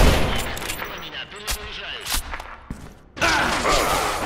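Bursts of gunfire from the online shooter Special Force 2 crack out in sharp, irregular shots and short volleys, with a dense rattling burst near the end, under players talking.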